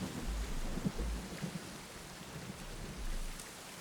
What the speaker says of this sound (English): Yay, rain.